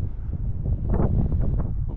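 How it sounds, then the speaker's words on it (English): Steady wind on a mountain in British Columbia roars and buffets against the microphone, a low rumbling rush that swells slightly midway and never lets up. "It's windy up here"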